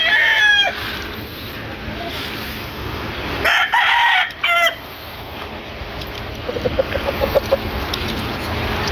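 A bloodline bull stag crows loudly and close by, with several bursts and a further crow partway through, followed by rhythmic clucking from fowl against steady farmyard background noise.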